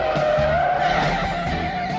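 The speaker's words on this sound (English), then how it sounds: "L56 in high-speed pursuit of suspect yellow Camaro" Car tires skid and squeal loudly and continuously during a high-speed police pursuit of a yellow Camaro, with a steady screech held over the engine roar for the whole stretch.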